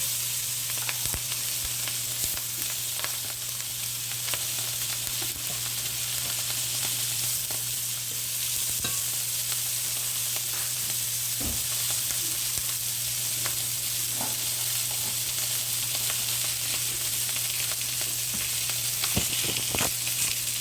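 Steak with onions frying in a pan, a dense, constant sizzle with a steady low hum underneath and occasional faint clicks, close and unbroken, no voices.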